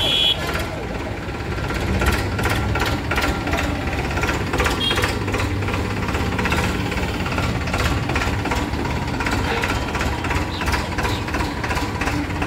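A Farmtrac 45 tractor engine runs steadily and close, a rough continuous rumble with faint rhythmic ticking throughout.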